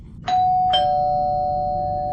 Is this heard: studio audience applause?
no